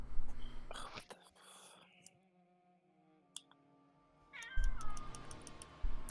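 A cat meows during an online voice call, a rising drawn-out cry near the end following scattered clicks, rustling and faint voices earlier in the stretch.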